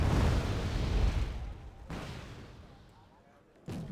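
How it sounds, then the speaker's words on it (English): A MiG-29 dropping napalm in the strategy video game Wargame Red Dragon: a heavy, rumbling explosion that fades out, followed by two sharper blasts, all fairly loud and close. "MiG-29 dropping in the nape."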